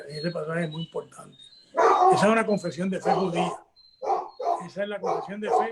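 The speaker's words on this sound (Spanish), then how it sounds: "Perdonen el perro mío que está ahí detrás, ladrando" A house dog barks and yips in the background while someone talks continuously in Spanish in the foreground, the barks partly masked by his voice.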